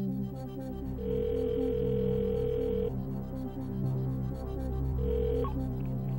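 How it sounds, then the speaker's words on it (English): A telephone call from London to Los Angeles on the Who Wants to Be a Millionaire quiz show rings out in two spaced ringing bursts, set against a low, continuous musical bed. "OK, yes, we'll phone David in Los Angeles."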